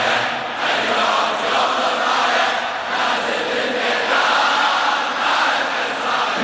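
Crowd chanting in unison at a Muharram mourning procession in Iraq, a dense, steady roar of many voices with rhythmic swells, loud and continuous throughout.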